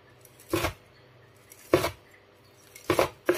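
A knife cuts pan-fried tofu on a chopping board with four distinct, evenly spaced soft thuds against a quiet background.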